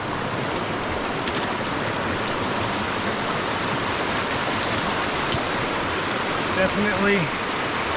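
Wading across the Dosewallips River in Olympic National Park: a constant broadband rush of flowing water fills the scene, with a brief splash or footstep near the end and a single spoken word.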